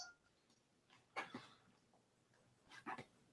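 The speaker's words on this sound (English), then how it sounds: "That would be my dog that you hear in the background." A dog somewhere in the background lets out a few faint, distant yips or barks in two short clusters against a quiet room.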